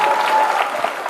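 Audience applause at a school annual day celebration at Rosary Convent High School, a steady dense crackle of many hands clapping at once, sustained and even throughout with no pauses.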